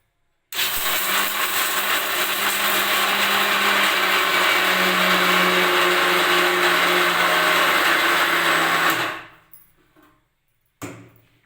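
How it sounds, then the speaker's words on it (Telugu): A mixer grinder whirs loudly and steadily for about eight seconds, crunching dry fruits, then winds down and stops, followed by a short knock. "అయితే మిక్సీకి వేసుకుంటా ఫస్ట్"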